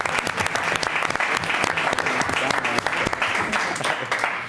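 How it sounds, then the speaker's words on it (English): Audience at a school board meeting applauds a student representative, dense steady clapping filling the room throughout, close and loud with a few voices mixed in. "So let's give Jackson a round of applause"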